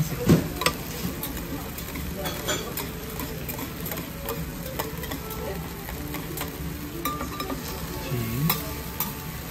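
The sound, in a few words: monjayaki batter sizzling and being mixed on a hot griddle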